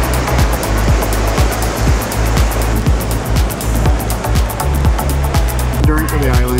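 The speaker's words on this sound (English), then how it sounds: "Bermuda. Some big waves." Big ocean surf breaking at Horseshoe Bay Beach in Bermuda: a continuous loud, low roar of waves, with a voice joining near the end.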